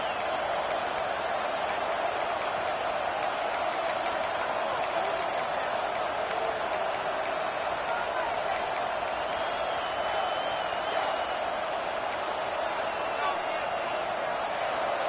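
Football stadium crowd at a Tiger Bowl game, a constant loud roar of distant massed voices with a steady broadband rumble and scattered sharp cracks, continuing for the whole stretch.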